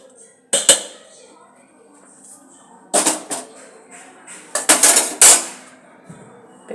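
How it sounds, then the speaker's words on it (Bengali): Papaya with mustard and salt ground on a stone sil-pata, heard as three bursts of sharp stone-on-stone knocks and scrapes separated by quieter gaps. "এবার বাটা শুরু করবো।"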